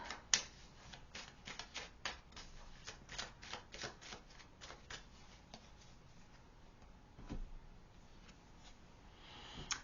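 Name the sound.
shuffling tarot cards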